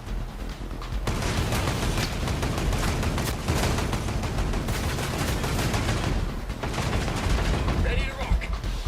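Dense gunfire in Ghost Recon Breakpoint on PS5 crackles continuously, with rapid bursts and booming explosions layered together, loud and unbroken for the whole stretch.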